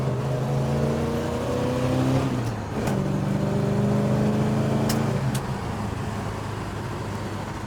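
A 1968 Plymouth Roadrunner drives and accelerates, its V8 engine climbing through revs with a gear shift about midway and another pull afterward, heard loud and steady from inside the car, no talking.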